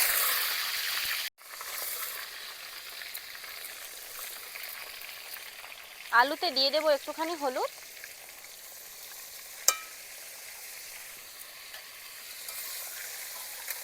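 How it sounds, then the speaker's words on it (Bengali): Potatoes fry in oil in a wok, a faint, even hiss running steadily in the background, while a voice speaks briefly over it midway and a single light tap follows. "আলুটা এখানে তেলে ভাজা হতে থাক।"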